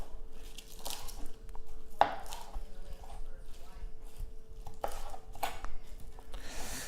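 Kale is cut into bite-sized pieces with a knife on a board: a few sharp, distinct chopping strikes stand out over quieter scraping and handling of the leaves.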